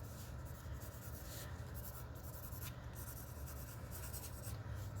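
A pencil drawing zigzag grass strokes on paper, a continuous soft scratchy rubbing heard close and quiet, with no talking.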